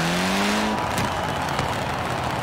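A Honda Civic Type R engine in a racing video game, played on a Logitech G29 wheel, roars steadily with a sharp revving whine early on and brief backfire pops, loud and close throughout.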